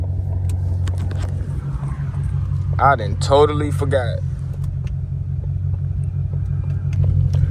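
A Ford Shelby GT500 engine rumbles steadily and low throughout while driving in Chicago, a constant near drone with someone talking briefly over it midway.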